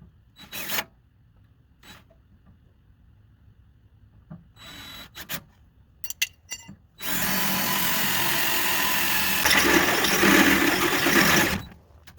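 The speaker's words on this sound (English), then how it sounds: "So let me drill some holes." A power drill whirs in a few short bursts, then runs loud and steady for several seconds, grinding through material on a Chevrolet squarebody truck before stopping.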